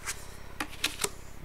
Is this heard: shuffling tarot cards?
yes